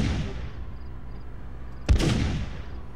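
A single sharp gunshot in a horror video game cracks out about two-thirds of the way through, standing out over a steady hiss of ambient noise.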